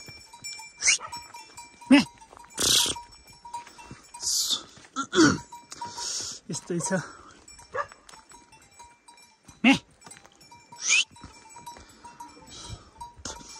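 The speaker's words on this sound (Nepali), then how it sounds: "बाख्रा चाहिँ त्यो फर्किरहेछ" Goats returning from grazing in a Nepali village let out scattered, fairly close bleats, some loud and some fainter, while people talk between them.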